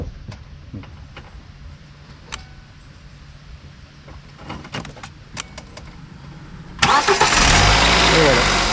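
A car engine cranks and catches after a POPDEER PD-JA2 jump starter is connected, bursting into a loud steady idle near the end after quiet clicks and handling sounds, with a voice talking over the setup.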